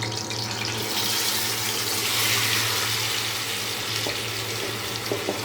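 Marinated chicken for biryani is tipped into a hot pot with whole cumin, setting off a loud, steady, close sizzling hiss that fills the whole stretch without any speech.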